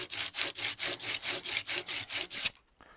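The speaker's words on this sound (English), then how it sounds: "I just learned how to sharpen a chisel." A dull chisel is drawn back and forth through a chisel sharpener in about ten quick, even rasping strokes, close and loud, ending abruptly into quiet.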